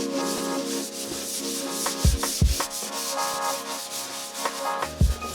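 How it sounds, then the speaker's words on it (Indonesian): Sandpaper rubs across a primed wall surface in steady back-and-forth strokes, a close, continuous rasping scrape with a few sharper knocks mixed in, and no voices. "Amplas permukaan yang telah dipelamir hingga rata."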